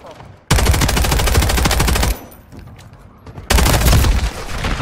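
Two loud bursts of automatic gunfire from Call of Duty: Modern Warfare 3, the first lasting over a second and the second starting after a short lull.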